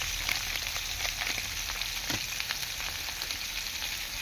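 Small whole potatoes frying in a pan with turmeric and salt, a steady close sizzle with light crackles and occasional stirring scrapes.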